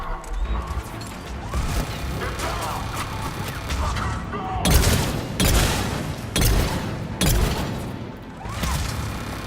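Gunfire in Mass Effect 3 combat: a dense, steady layer of rapid weapon fire and impacts, punctuated by several loud, sharp bursts near the end, with no talking.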